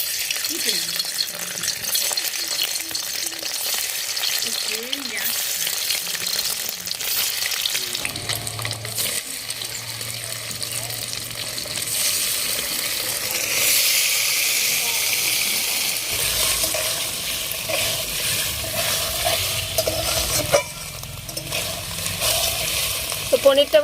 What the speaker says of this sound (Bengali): এবার আমি পনিরটা ভেজে নেব।